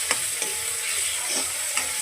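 Tomatoes frying in a pan with chilies, a steady bright sizzle broken by a few stirring scrapes, loud and close with no voices.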